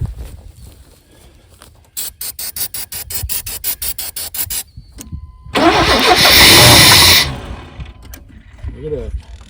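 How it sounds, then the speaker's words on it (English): Engine of a mini squarebody truck cranking in rapid rhythmic bursts, then catching and roaring loudly to life before settling to an idle, with people talking around it. "See if we'll start it up or not."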